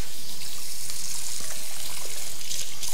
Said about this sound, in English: So we've got some celery, which I need to quickly wash.